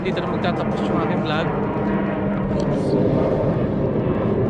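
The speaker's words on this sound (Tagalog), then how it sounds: "May dumaan na aeroplano." An airplane passes overhead above a car auction lot in Calgary, a broad continuous roar that stays loud throughout while someone talks over it nearby.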